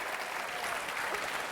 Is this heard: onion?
no